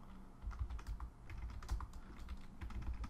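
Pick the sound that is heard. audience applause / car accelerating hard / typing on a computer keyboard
typing on a computer keyboard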